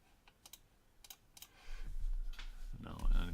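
A password being typed on a computer keyboard: a few scattered key clicks, then quicker, denser tapping over rising background noise, close by.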